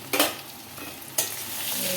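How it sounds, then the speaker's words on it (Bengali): Green chillies and diced capsicum are stirred in a hot frying pan, a steady sizzle with two sharp scraping strokes of the spatula, close and clear, no voices. "ভালো করে নাড়িয়ে নিচ্ছি"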